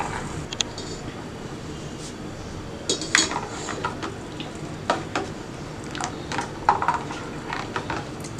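Spoon stirring a blended aloe vera and tomato mixture in a pot for homemade tomato soap, with steady scraping and clinking against the metal and a continuous wet swishing underneath, close and fairly loud.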